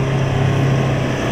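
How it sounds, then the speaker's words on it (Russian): SUV engine straining at full power in low range while climbing a steep off-road hill, a loud, continuous low droning roar held steady throughout with no pause. "Нам нужна вся мощность этого двигателя."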